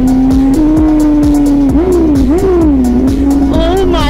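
A BMW S1000RR superbike fitted with an SC-Project titanium exhaust drones loudly and steadily up close, its pitch rising and dipping with throttle blips throughout, with no talk over it.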